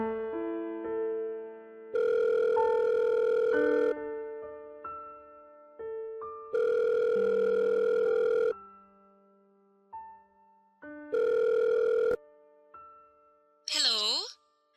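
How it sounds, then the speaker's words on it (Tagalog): Telephone tones from a call being placed: three long, loud bursts of a steady dial or ringback tone, separated by quieter tonal gaps, followed at the end by a brief warbling electronic ring. "Agad kong tinawagan si Weng."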